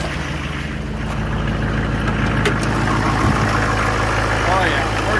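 Diesel engine idling steadily after a glow-plug start, a continuous low rumble with even firing pulses, loud and close, running the whole time with faint background sounds.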